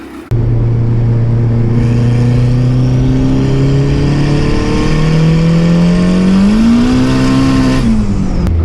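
A 500hp turbocharged Honda Civic drag-setup engine runs steadily and loudly up close, holding a droning idle before its pitch climbs and settles near the end, with no talk over it.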